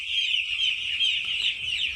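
Poultry chickens cluck inside a farm shed, a busy, fairly distant flock chatter set against a steady high hiss, with no talking.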